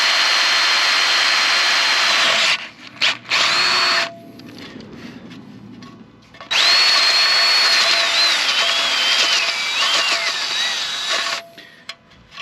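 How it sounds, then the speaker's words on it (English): An electric drill bores a valve stem hole through a wheel rim on a wagon chassis, a loud close high whine in long bursts with brief pauses, then a sustained run and a final stop. "drill a hole right here where the valve stem"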